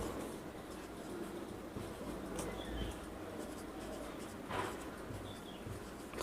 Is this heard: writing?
yes